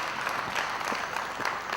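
Wrestling crowd cheering and applauding through a bout, a steady dense wash of clapping and hollering that stays loud and even from start to finish, with no voices standing out.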